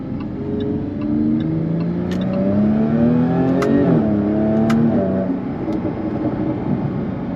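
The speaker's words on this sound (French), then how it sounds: "Avec l'échappement sport, on a toujours cette très belle sonorité du V6." A Jaguar F-Type supercharged 340-horsepower V6 rumbles and revs up, its sport exhaust note rising and falling in pitch, fairly loud with no talking.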